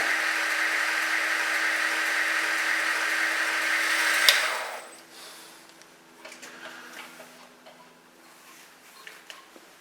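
A Northridge Tool belt grinder running at slow speed gives a steady motor whir with a belt hiss for several seconds, then winds down abruptly, leaving faint clicks and handling noises.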